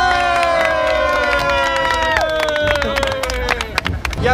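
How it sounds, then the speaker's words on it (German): Crowd cheering and whooping in a busy amusement park after the opening of the Fenix wing roller coaster at Toverland, Sevenum, steady noisy cheers with whistles and shouts throughout, with people calling out in the crowd. "Ein Applaus für die Bahn."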